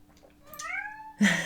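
A house cat gives one drawn-out, rising meow, clear and close in a quiet room, followed by a sudden louder rough burst of sound.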